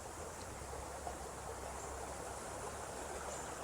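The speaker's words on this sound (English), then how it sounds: "you should be able to hear the waterfall and the creek" Water from a waterfall and creek in a botanical garden flows steadily as a faint, even hiss and rush, continuous and distant-sounding, with no talking.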